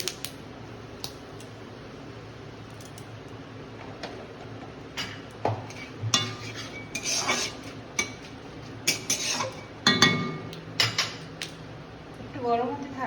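A spoon stirs aubergine with curry leaves and turmeric in a hot pan for a coconut poppy-seed chutney dish, giving scattered close scrapes and light metallic clinks over a low background hum.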